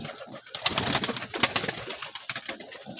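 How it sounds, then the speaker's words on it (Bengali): Pigeons and newly hatched pigeon chicks coo and murmur close by, soft throaty calls overlapping in an uneven rhythm, with faint rustling among them. "এখানে আমাদের কবুতরের বাচ্চা উঠেছে"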